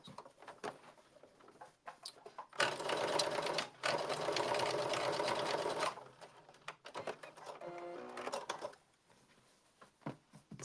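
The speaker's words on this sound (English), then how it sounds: "once you iron your dart, you're gonna edge stitch it" A sewing machine edge stitches a pressed dart closed on a blazer, running in one steady close burst of several seconds, with quieter pauses and short stitching bursts on either side.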